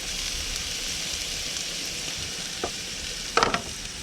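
Garlic and chili sizzling in hot oil in a pan, a steady hissing fry throughout, with a couple of brief stirring scrapes near the end and no voices.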